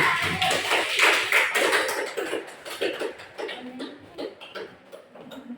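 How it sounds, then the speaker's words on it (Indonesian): Applause from a classroom of students after a group's biology presentation: dense, scattered clapping that starts strong, then thins and softens toward the end. "Aplaus untuk kelompok 1."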